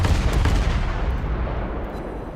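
Heavy warship naval guns fire in World of Warships, opening with a loud deep boom that rolls into a long, dense rumble and fades gradually toward the end.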